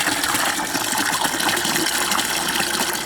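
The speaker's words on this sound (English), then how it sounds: "and then just start adding the water." Water gushes steadily into a bucket holding calcium to dissolve it for a garden feed mix, a loud, continuous pouring rush with no talk over it.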